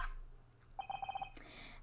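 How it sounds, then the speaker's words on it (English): Short electronic phone ringtone, a quick burst of rapid repeated beeps followed by a brighter chime, faint and close, with no talk. "what is with this stupid sounding ringtone?"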